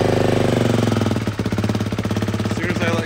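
A 2024 Beta 4-stroke fuel-injected motorcycle engine fires and runs with the throttle held open, a loud, rapid, even chugging thump close to the mic that lasts about three seconds.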